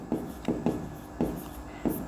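Writing on a board in a classroom: chalk or marker strokes in short, regular scratching bursts, about five in two seconds, close by with no talk over them.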